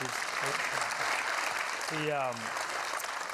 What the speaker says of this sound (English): A huge Dave Winfield fan, and you can clap.